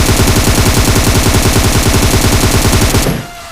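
Loud, relentless automatic fire from a machine gun in a battle royale shooter game, a steady rattling burst lasting about three seconds that stops sharply and leaves faint background noise.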